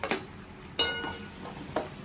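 Bottle gourd muthiya dumplings hit hot tempering oil spiced with hing and red chilli powder, giving a sharp sizzling burst at the drop, then a steady crackle with another brief flare near the end.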